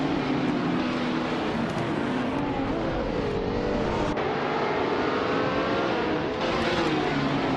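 Race cars pull away from the start in a racing video game at Okayama, with a 1970 Porsche 917K in the pack. Engines drone and rise in pitch continuously, and several gear-shift sweeps follow one another with no talking.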